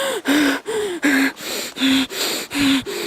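A voice mimics the heavy breathing of a camera operator behind the camera: about eight loud, close, rhythmic gasping snorts in quick succession, with no other talk.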